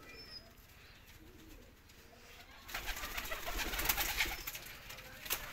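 Pigeons coo softly nearby, low murmuring calls that sit under a rising rustle and clatter of movement in the second half.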